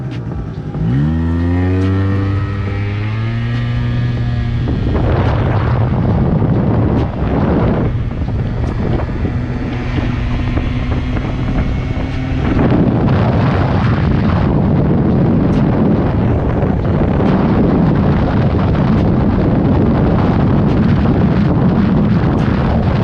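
Liquid-cooled Yamaha Zuma YW50 scooter ridden down a straight, its small engine note rising and revving in steady pitched harmonics, heavy wind buffeting over the microphone throughout and growing rougher as speed builds.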